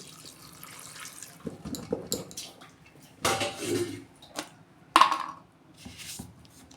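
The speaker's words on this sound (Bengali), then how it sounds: "এটা আমি ধুয়ে ভালো করে দিয়ে দিচ্ছি। অল্প জল দিচ্ছি।" Water running over soaked chana dal (split chickpeas) in a kitchen bowl, with splashing and sloshing bursts and a few sharper pours, close up and alone.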